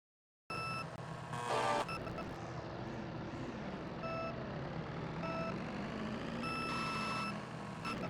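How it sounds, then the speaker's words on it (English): Super Mario Kart race start countdown: a few steady electronic beeps sound over a loud continuous engine drone, the tones spaced apart and clear. "Press the acceleration button right as the beep sound from the first light stops."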